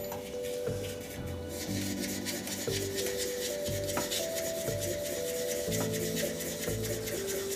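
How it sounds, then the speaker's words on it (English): Sandpaper rubs steadily over an epoxy resin shaving brush handle, producing a continuous close scratchy rasp with rhythmic strokes throughout. "One more grit after this with the sandpaper."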